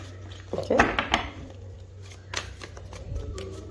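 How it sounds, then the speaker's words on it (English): Tarot cards shuffled by hand in a quick riffling burst, a few soft card slaps and rustles, then quieter handling with light room hum underneath. "I'm going to give it another shuffle."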